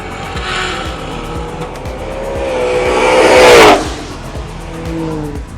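A no-prep race car runs with its dyno plug pulled, its engine note climbing to a loud, close roar about two-thirds through before dropping back to a steady drone.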